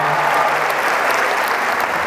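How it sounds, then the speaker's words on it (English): An audience claps in a dense, continuous burst of applause for the event staff, loud and close, lasting about two seconds. "Can I get a round of applause for the staff, please?"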